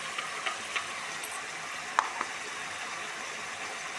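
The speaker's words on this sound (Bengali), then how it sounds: "এই যে সর্ষে পিষে রেখেছি, সর্ষেটার মধ্যে ঢেলে দেবো।" Ground mustard paste goes into broad beans frying in a pan, producing a soft, steady sizzle broken by a few light scrapes and clicks, with no one speaking.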